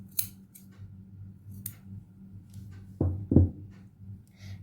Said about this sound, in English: Now I'll just cut the extra one.